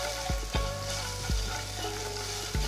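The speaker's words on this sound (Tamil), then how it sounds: "ஃபஸ்ட்டு நம்ம வதக்கிடலாம்." Green chillies, ginger and asafoetida sauté in a pan over a low flame, a steady frying sizzle broken by several sharp stirring knocks of a spoon against the pan.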